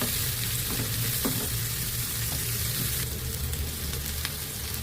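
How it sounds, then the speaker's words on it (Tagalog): Onions sautéing in a pan for creamy chicken with mushrooms, a steady loud sizzle and crackle throughout with occasional stirring scrapes, close up and without voices. "Saka tayo magigisa ng sibuyas."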